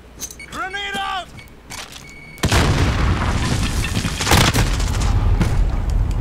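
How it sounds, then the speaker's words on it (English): A grenade explodes in the Call of Duty video game with a sudden loud boom, followed by sustained rumbling noise and scattered crackling. Voiced chatter sounds just before the blast. "Grenade out!"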